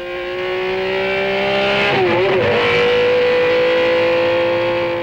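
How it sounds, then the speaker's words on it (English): A 1972 race car on the Targa Florio road circuit, loud and close, with a steady high engine note that surges and shifts pitch mid-way as it accelerates onto a short straight. "Then accelerate again for this short straight."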